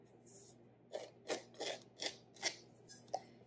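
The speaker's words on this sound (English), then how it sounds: "Grab a knife. I'm going to trim off the excess, and I just go around the underside of it like so." A knife trims excess pie pastry dough around the underside of a dish, making about seven short, close scraping strokes in a steady rhythm over a faint background hum.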